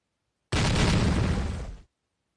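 A single loud blast booms suddenly, a dense roaring burst that sustains for over a second before cutting off abruptly, with silence around it.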